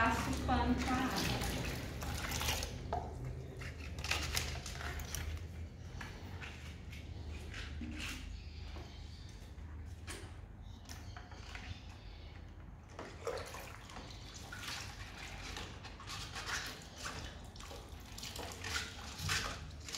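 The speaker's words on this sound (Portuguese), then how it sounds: "Essas são lacradas, aí eu já mergulho mesmo na água." Sealed grocery packages being dunked and sloshed in a basin of water for cleaning, with splashing, dripping and gurgling close by while people talk over it.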